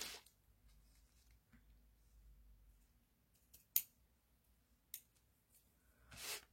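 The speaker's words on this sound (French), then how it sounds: "On coupe ce qui dépasse." Scissors snip off excess material in a few distinct, quiet cuts spaced a second or so apart, close up against a hushed room with faint rustling.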